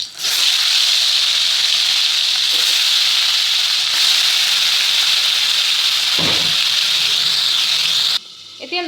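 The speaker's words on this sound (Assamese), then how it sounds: "এতিয়া মই চিকেনবিলাক ফ্ৰাই কৰি ল'ম অলপমান।" Chicken pieces frying in hot mustard oil in a wok give off a loud, steady, dense sizzle and hiss that runs unbroken for several seconds, then cuts off near the end.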